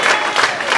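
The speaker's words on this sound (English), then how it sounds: "Clap for yourself." A crowd claps at a political party launch, loud and continuous applause packed into a short burst.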